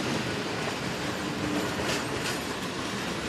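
A train rolling past on a railway line in northern Tunisia, a loud continuous rumble with rattling wheels and faint squeals, steady and close, with no talk.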